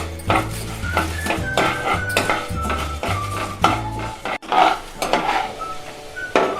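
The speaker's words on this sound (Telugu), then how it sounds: "ఈ సాయి మినపప్పు కూడా, ధనియాలు, కొంచెం జీలకర్ర, ఈ మొత్తం నూనెలో బాగా వేపాలండి." Urad dal, coriander seeds and cumin fry in oil for gongura chutney, with repeated clanks of a metal spoon against the pan over a faint sizzle, in a steady stirring rhythm.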